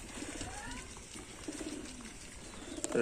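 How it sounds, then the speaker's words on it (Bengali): Domestic and Lotan pigeons feeding on wheat and grain coo softly and steadily at close range, with faint shuffling and scattered wing sounds. "সব খাওয়া শুরু করে দিয়েছে পায়রাগুলো"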